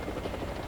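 Continuous whirring rotor drone of an MD500 Lahatut anti-tank helicopter in the War Thunder video game, steady and fairly quiet, with no voices.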